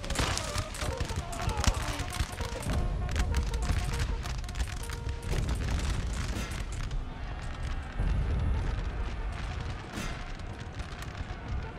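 Artillery barrage and musket fire in the Napoleon Total War battle game: dense, continuous rumbling booms and crackling volleys with sharp reports, loud and unbroken throughout with faint battle noise beneath.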